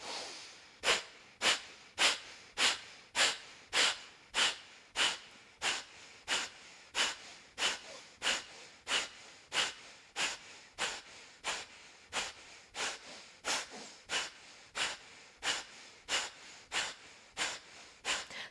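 Strong, forceful yoga breath exhales during a pranayama session, a steady rhythmic series of about thirty sharp puffs through the nose, close and loud, with no talking.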